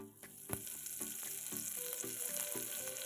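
Curry leaves crackle and pop in hot oil already seasoned with fennel, cumin and cinnamon for a mutton gravy, giving sharp close bursts over a steady sizzle.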